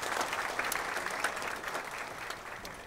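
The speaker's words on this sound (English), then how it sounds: "Could we have a good round of applause for Mr." Audience applause welcoming Snapdeal founder Kunal Bahl on stage: steady dense clapping from a sizeable crowd, sustained at even strength for about three seconds with no voices over it.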